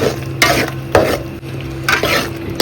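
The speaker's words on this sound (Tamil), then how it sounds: "தக்காளி வெங்காயம் அரைச்ச இஞ்சி பூண்டு பேஸ்ட்டு எல்லாமே நல்லா வதங்குது" Tomato, onion and ground ginger-garlic paste sauté in a pan for Madurai wedding-style pepper chicken, with a sizzling bed under repeated scraping and clanking stirs of a spoon against the pan.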